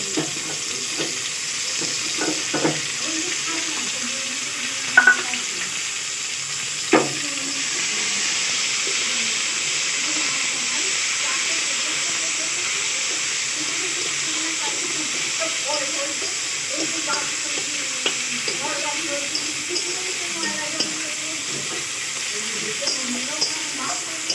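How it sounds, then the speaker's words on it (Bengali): Tomato added to browned onions frying in a pan, giving a steady, even sizzle and hiss with a few louder stirring knocks near the start, with faint talk in the background. "পেঁয়াজটা লাল করে ভাজা হয়ে গেছে আমি টমেটোটা দিয়ে দিচ্ছি"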